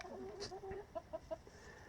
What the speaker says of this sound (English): There, some of the chickens.